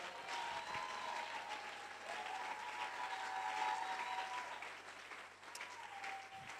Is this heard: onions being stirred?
no